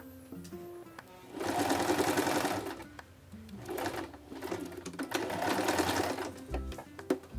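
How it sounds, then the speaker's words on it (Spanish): A sewing machine stitches a pair of Santa Claus slippers, running in two long loud bursts with a short pause between them, its motor whirring and the needle chattering rapidly, and a few clicks at the start and end. "esta partecita que estamos cosiendo para terminar y llegar hasta ahí a donde comenzamos nuestra costura"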